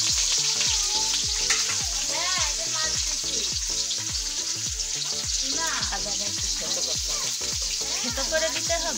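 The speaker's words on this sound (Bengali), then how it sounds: "আম্মু করলো কি, পরিমাণ মতো তেলে পেঁয়াজ রসুন আদাটা একটু ভেজে নিল।" Onion, garlic and ginger frying in oil make a continuous sizzle with stirring underneath, while speech and music play over the cooking throughout.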